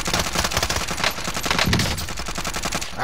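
Rapid automatic gunfire from Call of Duty: Modern Warfare Resurgence, dense sustained bursts of machine-gun fire filling the whole stretch, loud and close with overlapping shots and no break.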